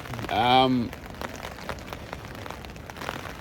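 Heavy rain patters steadily on a tent at a hiking-trail camp below Mt Howitt, a dense, close drumming texture with a short voice near the start.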